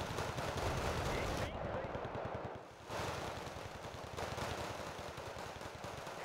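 A Stormer vehicle firing in Wargame: Red Dragon, with dense rapid bursts of automatic gunfire over battle noise, a short lull, then sustained firing again.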